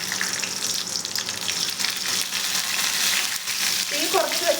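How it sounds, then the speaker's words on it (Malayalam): Mustard seeds popping in hot coconut oil over a low flame give a steady, close sizzling hiss with fine crackle running throughout. "തീ കുറച്ച് വെച്ച് ഈ കടുക് കുട്ടന്മാരൊന്ന് പൊട്ടി വരട്ടെ കേട്ടോ"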